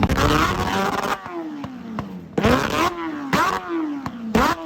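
Racing motorcycles at the Bol d'Or endurance race scream past one after another, each a loud, close pass with falling pitch as it goes by, several passes in quick succession with brief gaps between.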